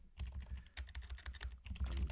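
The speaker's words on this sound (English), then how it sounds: "I'm typing something." Rapid typing on a computer keyboard, a dense, irregular run of close clicking keystrokes with no voice over it.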